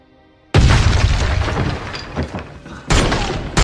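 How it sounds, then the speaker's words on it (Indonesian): A sudden loud explosion booms out of near silence in an action film's opening scene, followed by a rumbling roar that fades slightly, then a second burst of blast noise near the end. "ledakan terjadi"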